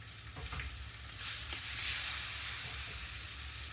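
Beef short ribs with some fat left on sear in a hot pan, a loud, continuous sizzle that swells and brightens as the meat settles, with a few soft knocks early on.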